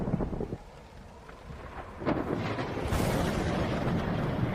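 Stormy night with a low thunder rumble rolling beneath steady rain and wind noise, swelling louder midway and continuing as a dense wash.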